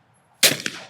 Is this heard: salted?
no